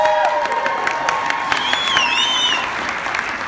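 An audience at a talk gives a round of applause mixed with crowd cheering and a few whistles or whoops, a full, sustained wash of clapping.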